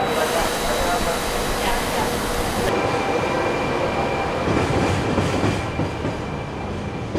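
Steady rumble and rattle of a moving train in Sicily bound for Catania, continuous and fairly loud throughout, with a faint high whine running through it.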